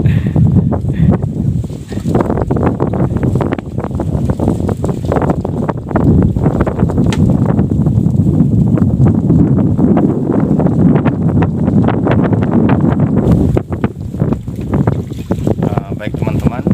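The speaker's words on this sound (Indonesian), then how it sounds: "Jadi cukup sejuk karena anginnya meniupnya cukup deras." Strong coastal wind gusting hard about 500 meters from the shore at a salt-making site in Manggarai, Flores, a loud, continuous buffeting roar with rumbling microphone wind noise throughout.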